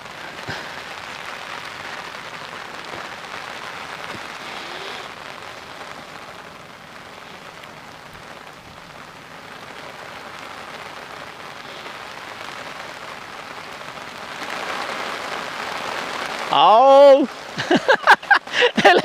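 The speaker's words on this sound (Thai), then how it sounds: "ก็ตอนนี้ก็ฝนตกอย่างที่เห็นนี่แหละครับ" Rain falls steadily at an earthen fishing pond, a soft broadband patter that continues through the whole stretch and grows a little louder toward the end, where some brief nearby knocks and a short voice-like sound break in.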